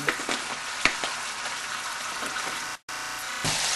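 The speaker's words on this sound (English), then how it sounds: "and we will sear it on all sides." Pork sears in a hot pan with a loud, steady sizzle and crackle right up close, broken by a couple of sharp pops and a brief drop to near silence before the frying resumes.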